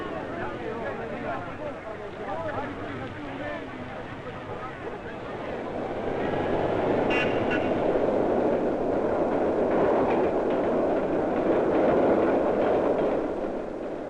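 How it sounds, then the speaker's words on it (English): A subway train rumbles along the rails with a steady roar that swells midway, while a narrator speaks over the running noise. "trains go underground into subways and tunnels as they approach the crowded areas of the city"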